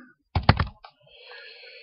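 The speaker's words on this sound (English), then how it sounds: "So if I was going to type Alan" Quick burst of computer keyboard typing as an email address is entered, a cluster of close keystrokes lasting under half a second, then a faint click and a low hum.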